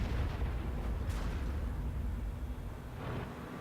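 A Ru 251 light tank fires its gun in World of Tanks, with deep booming rumbles and a sharp crack rolling over a loud, steady low engine drone.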